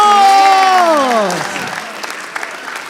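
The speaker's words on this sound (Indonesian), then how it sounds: "Tepuk tangan buat Arya Novriano." A voice trails off in a falling tone as a stand-up comedy show audience breaks into clapping, which carries on at a moderate, steady level.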